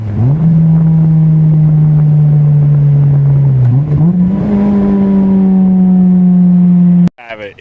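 A Honda exhaust fitted with a cheap $30 Amazon muffler revs up, holding a steady, smooth drone for several seconds, dipping briefly and climbing again before cutting off abruptly near the end.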